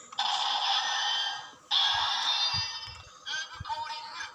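A bright electronic toy tone from a DX Ultraman Rube transformation device, held down, plays in two long buzzing bursts, then a shorter warbling flourish, close up, with faint clicks underneath.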